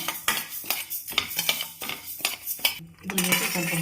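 Dry-roasting in a pan with a cardamom pod and a piece of mace for poppy seed payasa brings rapid, close scraping and clinking of a metal spoon against the pan in irregular bursts, with a faint dry rustle beneath.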